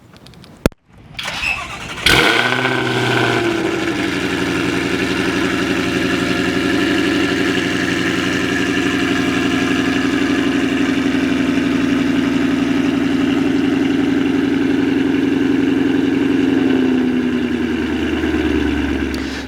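A Whipple-supercharged 2020 Shelby GT500 rated at about 1100 rwhp cranks over and fires up, then holds a loud, steady, rumbling idle with a slight rise before settling, heard close and alone.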